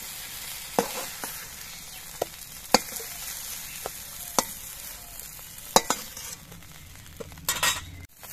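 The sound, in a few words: eggplant frying and being stirred in oil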